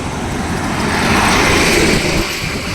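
Traffic on a road with dumper trucks rolls past as a steady, loud roadway rumble and whoosh, with no voices heard.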